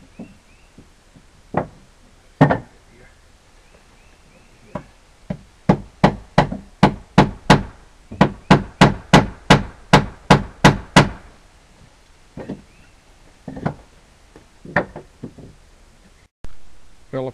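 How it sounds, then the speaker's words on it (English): Hammer blows driving nails into the ends of deck roof framing, a steady run of about twenty sharp, loud strikes in quick rhythm, framed by a few scattered knocks before and after. "we have to nail on the ends first"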